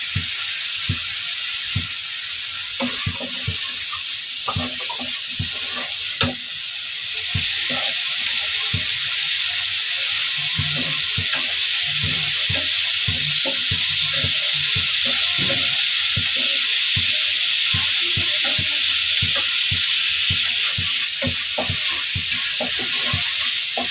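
Green chillies and spiced masala sizzle and crackle in a frying pan, a steady close hiss of frying with intermittent stirring clatter throughout.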